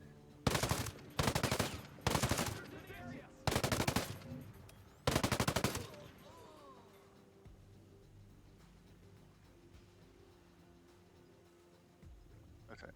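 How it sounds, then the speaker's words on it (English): Machine gun fire in the Ghost Recon Breakpoint video game: five loud, close bursts of rapid automatic shots over about six seconds, followed by a quieter tail of fading echoes and low ambient hum. "I'm using the machine gun."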